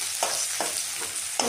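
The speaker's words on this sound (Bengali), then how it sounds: "লাল লাল করে একটু ভেজে নেবেন পেঁয়াজটাকে।" Onions frying in oil with black cumin and green chili hiss in a loud continuous sizzle, with a spatula stirring the pan in four regular scrapes and no talk.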